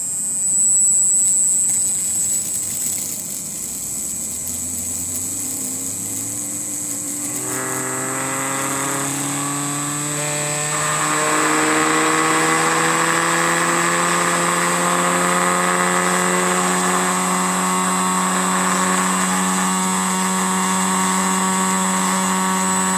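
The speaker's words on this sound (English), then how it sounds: "that's the simplest magnet spinner" A small magnet pulse motor spinner runs up to around 11,700 RPM, producing a loud, steady whine that climbs in pitch over the first several seconds and then holds as a continuous high-speed hum.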